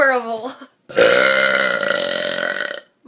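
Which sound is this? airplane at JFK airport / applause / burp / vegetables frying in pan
burp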